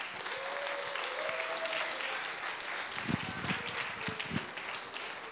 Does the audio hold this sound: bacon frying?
no